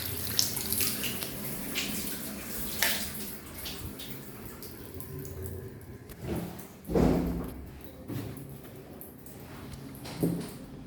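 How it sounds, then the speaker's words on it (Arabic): Tap water running in an apartment for sale in Agami, Alexandria, checked for pressure: a steady rushing flow under broadband noise, with several louder splashes and surges as the stream hits a sink, close by, no talk. "نشوف ضغط المية، ضغط المية كويس"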